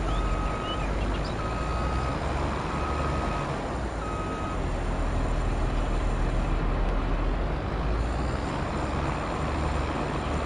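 Farming Simulator 22 vehicle backing up a trailer, a regular series of reversing beeps over a loud, steady engine drone, the beeps fading out partway through while the engine continues.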